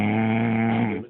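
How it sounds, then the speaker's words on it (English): A man snoring with a steady, droning rasp, one long drawn breath heard up close and fairly loud before it fades out at the end. "I'm a snoring man"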